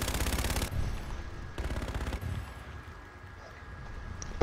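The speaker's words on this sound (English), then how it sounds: "Who's shooting at who?" Rapid gunfire bursts in a first-person shooter game, two loud automatic volleys near the start and middle separated by quieter stretches of ambient game noise.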